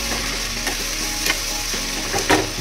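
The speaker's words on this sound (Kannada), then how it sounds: "ಉರಿ ಜಾಸ್ತಿ ಮಾಡಿಕೊಂಡು ಸ್ವಲ್ಪ ಹೊತ್ತೆಲ್ಲ ಇದನ್ನು ಫ್ರೈ ಮಾಡಿಕೊಂಡ ನಂತರ" Okra for bhindi fry sizzles loudly over a high flame, with a continuous close frying hiss and a few quick stirring scrapes in the pan.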